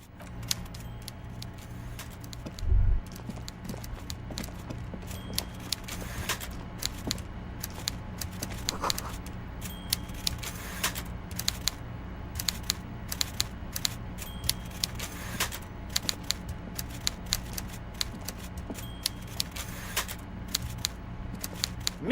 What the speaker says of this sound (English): Everard Clare clatters away on his typewriter, willfully indifferent to your presence.